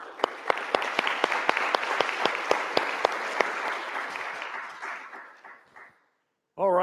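Audience applause for panelists at a cybersecurity pre-conference event, a burst of clapping with sharp, distinct nearby claps over a dense crowd wash, tapering off to near silence before a voice starts speaking.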